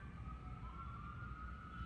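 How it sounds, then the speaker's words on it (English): Emergency vehicle sirens on a New York street, a steady wailing tone held in the distance over low traffic rumble, with no one talking. "Sorry about the sirens, guys."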